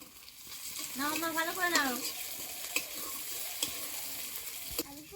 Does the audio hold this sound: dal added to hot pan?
yes